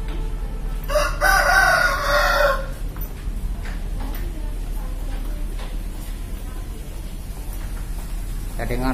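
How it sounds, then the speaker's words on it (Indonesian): A rooster crows loudly once in Jakarta, a long drawn-out call, followed by quieter outdoor ambience with a steady low hum. "Dengar tadi ada ayam"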